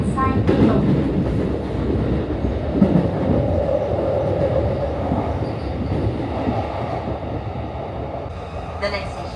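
A Tokyo subway train runs toward Ogikubo station on the Marunouchi line, its steady rumble and rail noise filling the carriage at a constant loud level, with a brief chime or announcement tone at the start and end.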